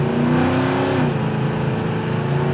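A 1969 Plymouth Roadrunner accelerating hard, its engine roaring loud and close with a steady rising pitch that drops at a gear shift near the middle, then pulls on.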